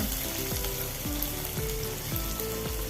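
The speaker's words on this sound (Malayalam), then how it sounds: "കുറച്ച് എണ്ണയിലകത്ത് പച്ചമുളക് ചേർത്തതും വെളുത്തുള്ളിയും ചേർത്ത് കൊടുക്കാം" Green chilli and garlic sizzle in a little hot oil, a steady close frying crackle under background music.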